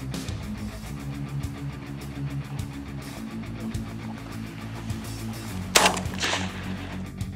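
A single sharp shotgun blast rings out during an outdoor pigeon hunt, standing out once over a low, steady background of ambient noise.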